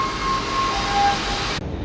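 A Tbilisi metro train rumbles steadily along the track with a loud low roar and a faint high whine, then the sound cuts off abruptly near the end.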